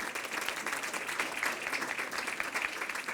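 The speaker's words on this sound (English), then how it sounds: "we want to give them a round of applause first and foremost" Audience applause at an evening panel discussion, a steady, fairly distant patter of many hands clapping that holds evenly for a few seconds without talk over it.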